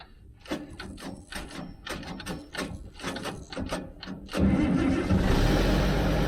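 A 45-year-old International 1486 tractor engine cranks in a series of rhythmic starter pulses for about four seconds, then catches and settles into a loud, steady running roar, close by with no talk.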